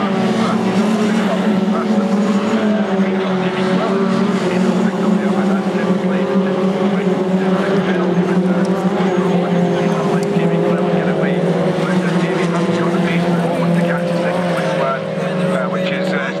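Mini Cooper race car engines roar continuously at close range at Knockhill, a steady loud drone with shifting pitch as cars pass in a line, with commentary over the noise.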